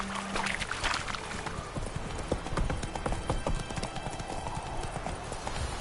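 A horse trots in The Witcher 3 game. Steady, moderately loud hoofbeats clip-clop in a quick even rhythm over a constant background wash, with a brief voice near the start.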